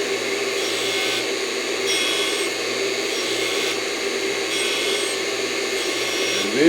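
A surface grinder works a steel block square, giving off a steady, loud, close whirring grind that holds even all the way through. It swells briefly right at the end.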